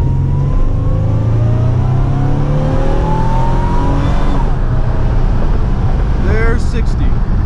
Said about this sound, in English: gonna do a quick 0 to 60 run with traction control on